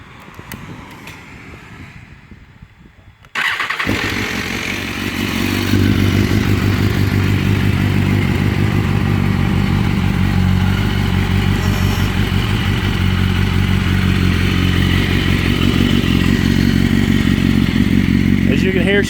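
A 2013 Granite Grey BMW S1000RR with its exhaust baffle removed cranks briefly, then fires and settles into a loud, steady, rumbling idle that carries on to the end without pause.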